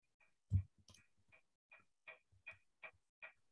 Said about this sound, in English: Okay, so I'm just typing in here.